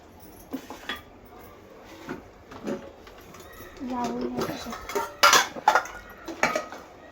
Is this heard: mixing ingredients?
yes